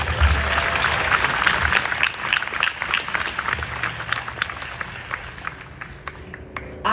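A crowd at a University of Pennsylvania welcome event for new students applauds steadily, loud at first and gradually thinning out into scattered claps.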